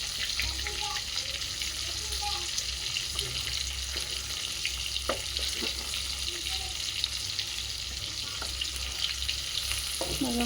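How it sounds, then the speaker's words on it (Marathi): Bangda fish sizzling steadily in a hot pan, a dense continuous crackle of frying oil with a few faint clinks from a utensil, close up and without speech. "मस्त याला आपण फ्राय करायला ठेवलं. आता याला फ्राय होऊ देऊ आपण."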